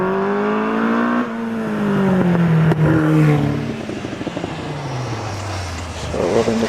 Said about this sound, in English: the Mark 20 of Robin Nicholson, sits on the line, the revs rise